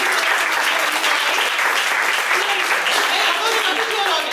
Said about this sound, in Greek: Χειροκρότημα, παιδιά!